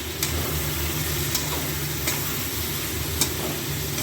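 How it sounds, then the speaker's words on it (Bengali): Spiced sol fish and radish curry being stirred in a pan, steady low sizzle with a few sharp scraping clicks of the spatula spaced apart, close and alone. "এবার এগুলোকে ভালো করে নাড়িয়ে চাড়িয়ে"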